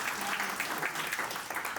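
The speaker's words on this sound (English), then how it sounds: "So everybody give yourselves a round of applause." Audience applause at the NAMM 2026 music trade show, a short, dense burst of many hands clapping that stays steady for under two seconds.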